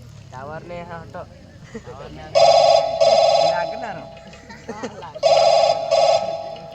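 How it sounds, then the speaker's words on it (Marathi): A telephone rings in two pairs of bright, buzzing electronic trills, loud and close, with people talking in between. "अंजूला फोन करा"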